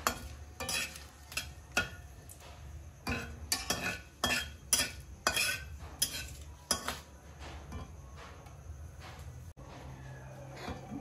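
Bay leaves and chillies fry in a pan of oil while being prepared for a chalta (elephant apple) pickle. A spoon scrapes and clinks against the pan in irregular strokes over a soft, steady sizzle, close by and with no voices.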